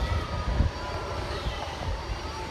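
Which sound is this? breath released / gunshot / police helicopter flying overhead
police helicopter flying overhead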